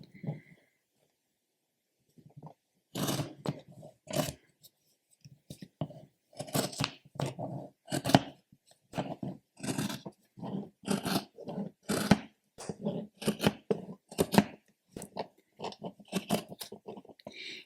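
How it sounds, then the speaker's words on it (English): Scissors snipping through T-shirt fabric into strips, a close series of crisp cuts that comes in irregular bursts after a quiet start, with no talking. "You're going to cut through this first section, but not through this end piece here."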